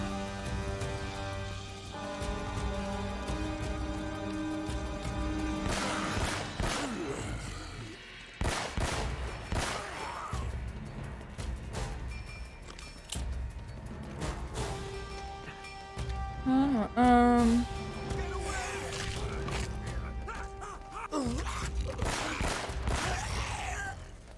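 Gunfire in an Uncharted game: scattered sharp shots and short bursts across a busy stretch of game sound, with music, clattering effects and someone talking in between.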